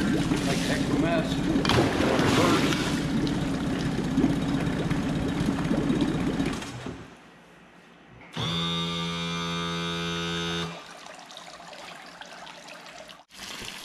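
A Tohatsu 20 HP outboard motor runs on a service stand, putting out a loud, steady drone with splashing water for about seven seconds, then quieting to a low hum. A brief tonal whine follows before the sound settles again.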